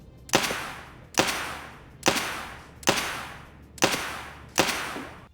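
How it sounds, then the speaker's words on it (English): Six evenly spaced shots from a suppressed Glock pistol fitted with an AAC suppressor in Escape from Tarkov, each a sharp muffled crack with a short decaying tail, steady and alone with no talk. "let's just do a quick breakdown here of the Glock with multiple different types of suppressors. So that was the AAC suppressor"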